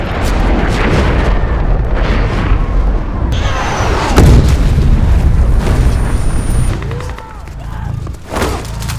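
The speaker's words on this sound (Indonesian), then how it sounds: "Tak lama kemudian, peluru roket kembali dilesatkan oleh pasukan militer." Rocket fire and explosions from a military assault on zombies in a film, with booming blasts and rumbling debris over a dense, noisy battle soundtrack lasting several seconds.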